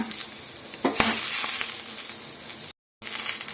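Raw mango pieces sizzle in a hot pan for chutney, a steady close frying hiss broken by scraping stirs and a sharper splatter, with a brief cut to silence near the end.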